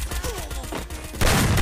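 Bursts of rapid gunfire in the Garena Free Fire battle royale game, a quick rattling series of shots that grows louder and denser near the end, with no voices over it.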